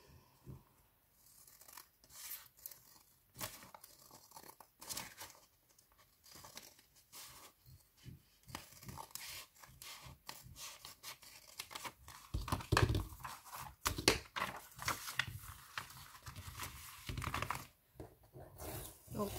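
Paper page being cut with scissors for a Fauxbonichi planner, a run of close crisp snips and crinkling rustles that grow busier toward the end, mixed with a person talking.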